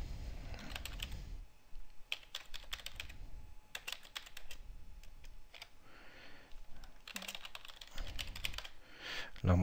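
Typing on a computer keyboard, with clusters of quick key clicks in irregular bursts separated by short pauses, close and fairly quiet, alone without talk.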